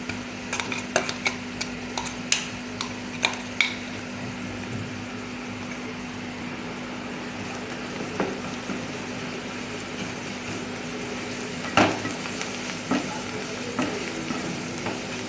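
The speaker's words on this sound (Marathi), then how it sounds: "मिक्स करून घ्यायचं मसाला पण चांगला फ्राय झाला आहे" Ground masala frying with browned onions in a pan for a Marathi bombil batata rassa, with a low steady sizzle broken by scattered clicks and scrapes of stirring, fairly quiet and without talk.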